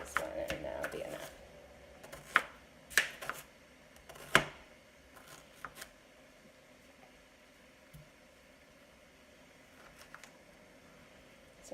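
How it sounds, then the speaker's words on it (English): Knife chopping through potatoes on a cutting board in a farm kitchen, a series of sharp irregular cuts clustered early on, fading to a few faint knocks under a quiet background. "I think I'm going to cut the rest of this one and that'll be enough."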